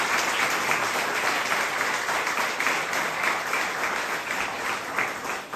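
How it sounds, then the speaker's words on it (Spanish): A church congregation applauds during a Mass in Santa Cruz, producing a full, steady wash of clapping that holds at an even level for several seconds, with no voices on top. "Vamos a darle un fuerte aplauso a Dios nuestro Señor"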